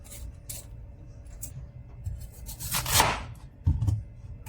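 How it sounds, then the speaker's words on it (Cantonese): Potatoes being peeled for a tomato, potato and pork bone soup, heard as close, soft scraping and rubbing strokes with a denser rasping burst in the middle and a sharper knock near the end, with no voices. "首先將薯仔去皮"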